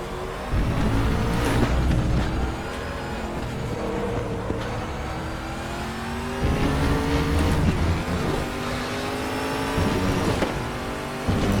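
A Nissan GTR race car modified to GT1 specs, rear-wheel drive with a naturally aspirated V8, roars continuously in the RaceRoom racing game, with rising revs and gear changes repeating and no talking.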